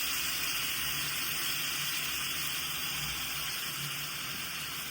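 Marinated chicken goes into a well-heated pan for biryani, with no added oil. A faint, steady sizzling hiss carries on evenly throughout.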